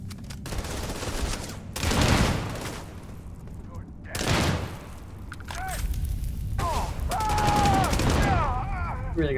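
Companion's gunfire in the sci-fi game Starfield: several bursts of loud, booming shots in short clusters, with voices talking in between.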